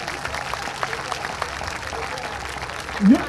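Crowd at an outdoor political rally clapping on request, a scattered, moderate patter of hands with loose rhythm, amid background voices, swelling briefly with a louder burst near the close.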